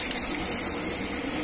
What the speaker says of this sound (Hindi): ओ भाई पाइप फटने वाला है, वो देखो पानी देखो कैसे फेंक रहा